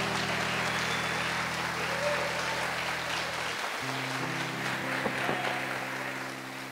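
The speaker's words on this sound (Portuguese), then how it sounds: "E Ele merece uma salva de palmas da nossa parte." Congregation in a church applauding during a sermon, a steady wash of clapping over a sustained organ or keyboard chord that shifts partway through.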